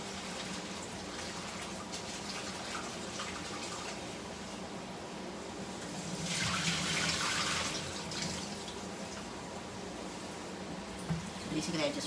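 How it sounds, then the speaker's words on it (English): Tap water runs into a container for soaking mung bean microgreens, a steady hiss of flowing water that swells louder midway, heard close. "Fill this up with water."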